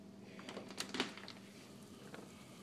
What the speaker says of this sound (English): Oh, that's freezing rain.